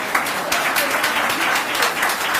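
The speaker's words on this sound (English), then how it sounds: "Can we have another round of applause?" An awards ceremony audience applauds student speakers from a speech and essay contest, a short, steady patter of many hands clapping at moderate volume.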